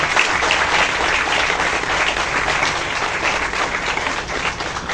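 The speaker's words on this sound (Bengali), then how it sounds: "আপনাদের লাগলে ওদের জন্য একটা তালি" Sustained applause from an audience at a special pre-release screening of a Bengali film, a dense, even wash of many hands clapping that holds steady throughout and eases slightly at the end, with no talking.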